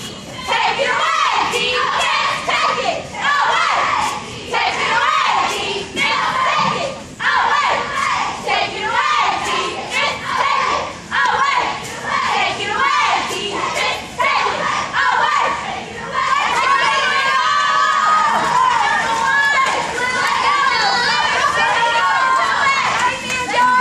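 A crowd of children at a cheer camp yells and cheers in loud repeated bursts, building to sustained shrill shouting near the end, with voices talking in between.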